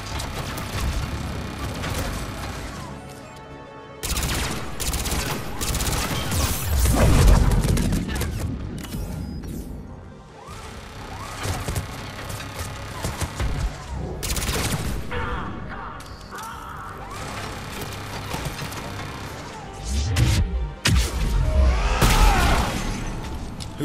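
Turret gunfire in the Mass Effect 3 video game: loud, dense bursts of rapid mechanical firing and booming impacts in waves, with short lulls between the volleys.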